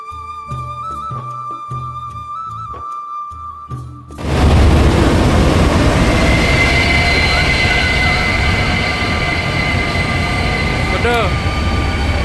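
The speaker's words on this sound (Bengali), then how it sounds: "বলতে বলতে রেলটা চলে এসেছে স্টেশনে" The Kanchanjunga Express arriving at a station, beginning with tonal horn-like whistles and humming, then a sudden loud rumble of wheels and carriages rolling in, with brief squeals near the end.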